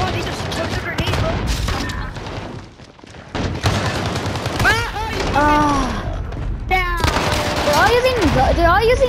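Dense SMG and sniper gunfire from a Call of Duty: Modern Warfare match, with rapid bursts and single cracks that fill most of the stretch, mixed with in-game effects and voices talking over the action.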